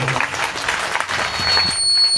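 Sustained crowd applause for the guru during a Shiv Mahapuran katha, many hands clapping in a continuous even roar that swells slightly toward the end, with no talking.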